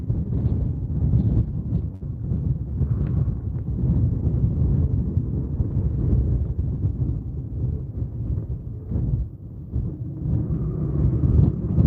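Heavy wind from a tropical storm roars and buffets the microphone in a continuous low rumble, surging in gusts with no voices, at Simpson Bay, St Martin.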